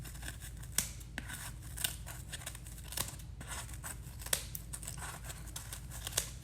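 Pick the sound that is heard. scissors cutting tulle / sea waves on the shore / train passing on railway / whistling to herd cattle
scissors cutting tulle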